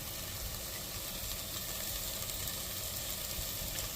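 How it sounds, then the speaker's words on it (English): Chopped garlic dropped into a hot pan for Italian marinara, sizzling in oil as a continuous, even frying hiss of moderate level, with no voices. "So now we're going to drop our chopped garlic in there."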